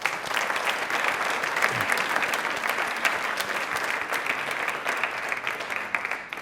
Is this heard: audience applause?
yes